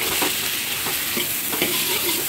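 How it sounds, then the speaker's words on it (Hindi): Tomato and potato sabji stirred in a kadhai over low flame, a continuous sizzle with soft rhythmic scraping strokes of the spoon, close and steady with no voices. "टमाटरां नूं चंगी तरह सब्जी नूं हिलाउणा शुरू कर देणा है"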